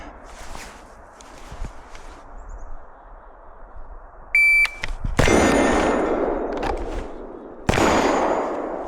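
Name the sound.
pistol shot in timed shooting drill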